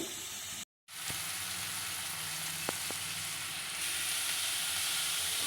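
Onion pieces fry in a pan for ridge-free lady's finger curry prep, a steady close sizzle broken by a brief dropout near the start, with a few light ladle knocks as the pieces are stirred.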